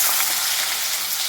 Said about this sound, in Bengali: তো এখন আমি ফুলকপি আর আলু এগুলো ভেজে নিই।